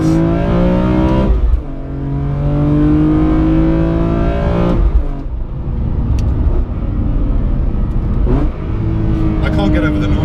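A BMW E46 M3 CSL engine revs hard and climbs through the gears, with loud rising tones broken by brief shift pauses, heard close up from inside.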